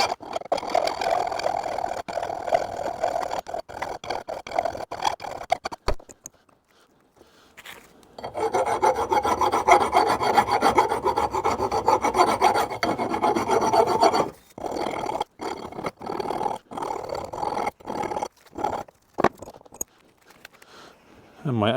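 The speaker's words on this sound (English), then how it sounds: "We can then file down afterwards and make sure the nut fits okay over the top" A hand file rasps burrs off the top of a threaded stud while building a Gardner Douglas 427 Mk4 AC Cobra replica, giving repeated close scraping strokes with a short pause partway through.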